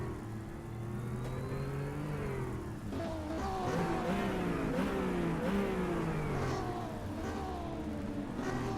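A Porsche 911 RSR race car in a racing video game, racing at Barcelona, revs loudly and continuously, its engine pitch climbing and dropping through repeated gear changes.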